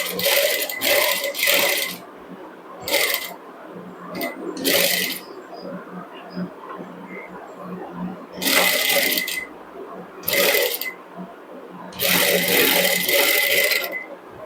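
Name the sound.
sewing machine stitching blouse sleeve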